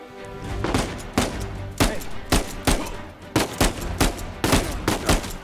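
Bursts of video-game gunfire from Uncharted 4 crack out in rapid volleys, with sharp loud shots coming in uneven clusters over several seconds; no one speaks.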